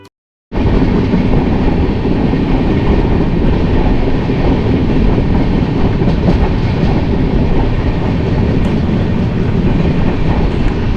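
Howrah Puri SF Express pulling into a station, a loud, steady rumble of rolling coaches with faint clickety-clack over the rails, running continuously after a brief silent start.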